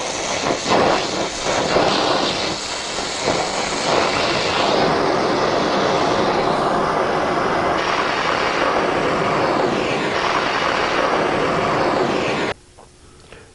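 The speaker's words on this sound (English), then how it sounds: "Still got my torch just a little bit of an angle, so I'm preheating." A torch flame preheats metal for brazing, giving a loud, continuous roaring hiss that holds steady for about twelve seconds and then cuts off abruptly.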